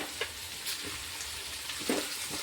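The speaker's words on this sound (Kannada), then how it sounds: "ಇದನ್ನು ಒಂದು ಸ್ವಲ್ಪ ಹೊತ್ತು ನಾವು ತಿರೋಣ, ಎಲ್ಲ ಮಿಕ್ಸ್ ಆಗಂಗೆ ತಿರುವಿ ತೊಗೊಳ್ಳೋಣ. ಇದು ಒಂದು ಸ್ವಲ್ಪ ಫ್ರೈ ಅಲ್ರಿ." Green chillies and chopped coriander fry in a pan with a steady sizzle, broken by a few soft scrapes of stirring, close and continuous with no talk.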